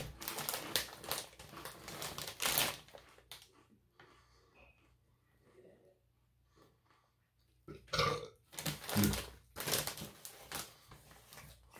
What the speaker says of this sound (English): Crazy how chips make you burp.